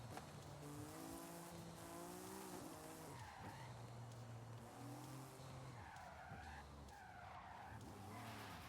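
Tires skid and squeal repeatedly through handbrake turns in a racing video game, the car's back end sliding out, with rising and falling wails over a steady engine drone, loud and continuous.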